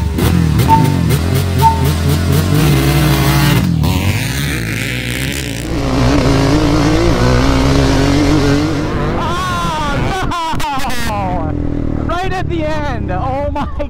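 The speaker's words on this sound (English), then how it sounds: "I'm gonna go with the first gear launch" Honda TRX250R and Polaris Predator 500 ATVs launching hard in first gear on dirt terrain, loud engines screaming and revving up close, with excited shouting over the roar.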